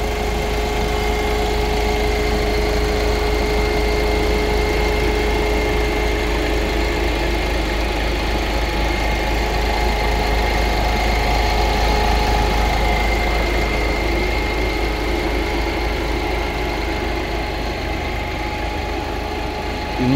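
A 2018 Ford EcoSport Titanium Plus diesel idles steadily and close by, its engine drone joined by the continuous whir of the radiator fan, with no talk over it.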